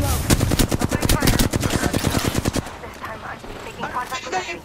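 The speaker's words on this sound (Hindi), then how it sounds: "Shots fired" Apex Legends gunfire: a loud burst of rapid automatic shots for about two and a half seconds, then quieter scattered game sounds, with speech mixed in.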